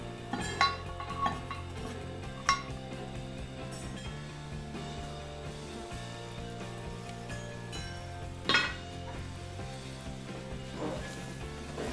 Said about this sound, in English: I thought I might give it a stir, see how it's doing